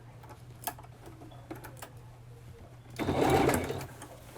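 Domestic sewing machine stitching small sleeves in the round, running slowly with a faint ticking whir that swells louder for a moment near the end, with a brief spoken word early on.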